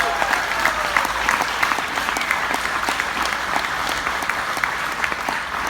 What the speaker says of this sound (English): So, round of applause for Molly.